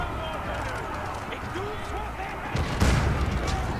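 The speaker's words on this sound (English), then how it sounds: "a lot of huge mango shots coming in" Heavy mangonel shots from a medieval strategy game land as a loud cluster of thudding impacts near the end, beneath excited commentary and distant battle noise.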